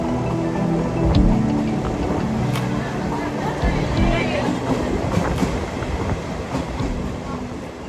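A MEMU passenger train rolls from Tirupati toward Kanchipuram, heard from inside as a loud steady rumble with rhythmic wheel clatter and occasional sharp clanks over the rails.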